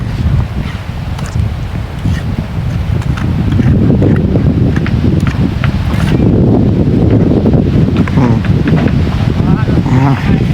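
Loud wind buffeting a camera microphone outdoors, a heavy continuous rumble and roar that swells partway through, with a voice faintly underneath.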